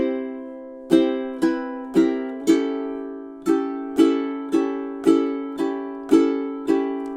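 Ukulele strumming through measures 16 and 17 of a song, about a dozen bright, evenly spaced chord strums that ring between strokes, close and clear with no voices.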